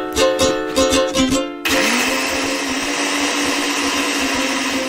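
A blender whips cake batter made with milk and vanilla for a no-bake cake. A few short pulses give way to a loud, steady, close motor whir that runs on without a break.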